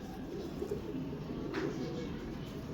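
Pigeons coo softly and repeatedly against a steady background hum, the low calls fairly faint.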